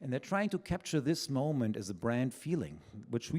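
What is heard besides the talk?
No distinct noise like a dog, phone or traffic.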